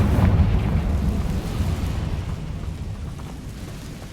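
A Confringo fire spell explodes in the Hogwarts Legacy video game, a deep booming blast that hits at once and then rumbles away, fading over a few seconds.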